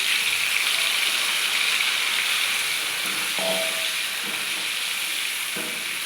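Marinated chicken goes into a hot pan with tomatoes for chicken dopyaza and sizzles steadily and loudly, with a few soft clinks of a spoon stirring partway through.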